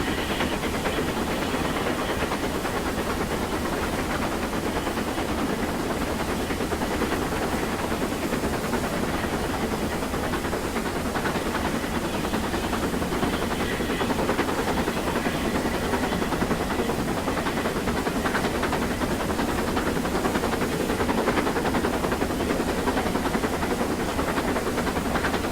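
A Duchess steam locomotive picking up speed over the Settle and Carlisle line with the regulator opened and sanders on, heard as a steady, dense roar and hiss of steam and running gear, continuous and loud with no talk.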